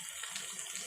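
Water is poured into a simmering egg curry with tomato gravy during home cooking, giving a brief, soft splashing trickle.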